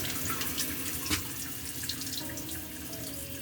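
Hot water gushes from a tap in a campervan, a steady close-up splashing rush with a few brief drips and sputters, no voices.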